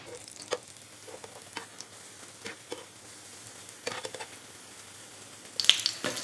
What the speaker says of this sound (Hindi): तो ऑयल जो है ना, वो हमारा गर्म हो चुका है और अब हम इसके ऊपर ब्रेड के स्लाइस रखते जाएंगे।